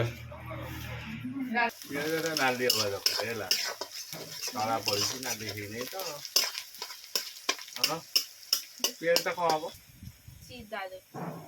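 Chicken roasting and being stirred in a pan, a sizzle with scraping and clinks of a utensil against metal, running under near-constant talking from a man.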